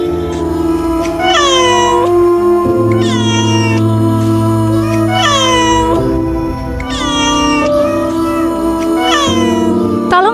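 A cat meows loudly and close, giving about five drawn-out, rising-and-falling cries in a steady rhythm over a continuous low hum and backing music.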